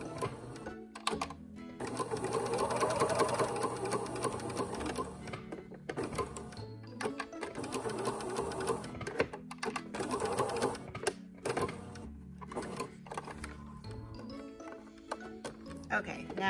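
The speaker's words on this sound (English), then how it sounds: "at the sewing machine, I'm going to sew the neckband into a loop" Sewing machine stitching a neckband into a loop for a V-neck dolman top, brisk mechanical whirring in several bursts separated by short stops, close and fairly loud, with a voice talking over it at times.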